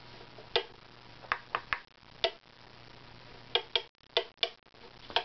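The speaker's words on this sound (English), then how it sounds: "So we're just going to, scrape the high" Scraper drawn across a wooden fingerboard of a stringed instrument, giving short, sharp scraping strokes, close and fairly faint, spaced irregularly with quiet gaps between them.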